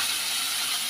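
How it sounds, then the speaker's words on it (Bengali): Hilsa fish fries in a pan at home, giving a steady, loud, close sizzle of hot oil with no break and no talking. "তা দেখো এই যে ইলিশ মাছগুলো ভাজা হচ্ছে"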